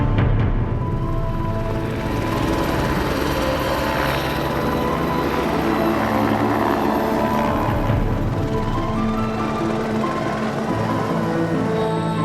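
Aircraft flying before an approach, a loud continuous throbbing engine roar that holds steady throughout, heard alone with no talk.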